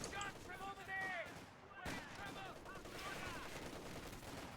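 Gunfire in a Company of Heroes 2 tournament match, faint scattered shots and a sharp crack buried under continuous battle noise while a commentator talks over it.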